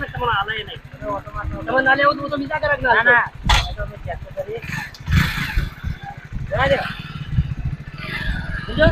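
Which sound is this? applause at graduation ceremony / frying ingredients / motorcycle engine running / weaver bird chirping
motorcycle engine running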